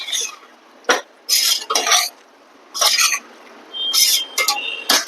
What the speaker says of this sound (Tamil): 200 grams பன்னீர் கிளறிக்கோங்க.